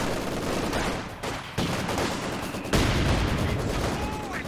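Machine gun fire in the World War II strategy game Company of Heroes 2, a dense, steady rattle of automatic fire mixed with battle noise that runs loud and continuous throughout, with sharp jumps in intensity.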